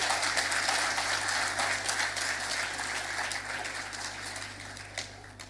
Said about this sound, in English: I think all Liberians here can applaud for yourselves better than you are doing.